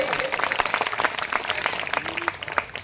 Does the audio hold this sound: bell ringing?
no